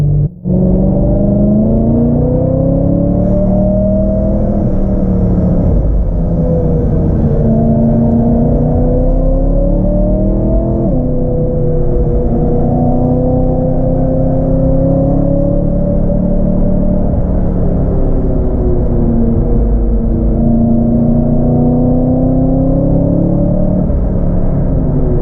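A BMW M3 drives along, its engine a loud, close, steady drone whose pitch rises and falls gently as the car moves, with no talking.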